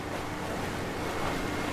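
Storm-tossed Southern Ocean waves roar in a thick, unbroken wash of surf and wind, loud and steady with no voices.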